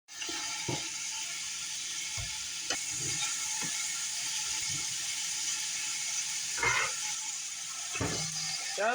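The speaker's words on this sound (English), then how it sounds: "you're just gonna saute this for a few minutes" Minced garlic, onion, carrot and ham sautéing in oil for split pea soup, giving a steady background sizzle broken by several sharp clinks and scrapes of stirring in the pot, with no voices.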